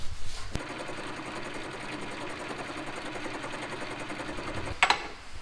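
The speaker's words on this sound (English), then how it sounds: "I figured I would just chuck it up in the lathe, and we'd use some sandpaper and clean up these surfaces a little bit" A part for a 1956 Chevy spins steadily in a lathe while sandpaper is held against it, giving a continuous whirring, buzzing hum with a sharp knock at the start and a brief rattle near the end.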